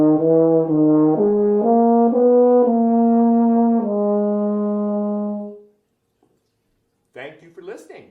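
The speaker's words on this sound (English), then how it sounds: "It's called the Euphonium that sometimes gets to play in the orchestra." Euphonium, a smaller tuba, playing a short legato phrase of warm mid-low brass notes that ends on a long held tone, followed by silence and a bit of speech.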